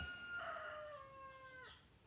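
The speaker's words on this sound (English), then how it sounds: "Thanks, Rooster." A rooster crows once in a long, drawn-out call with a falling final note, fairly close and clear over a quiet background.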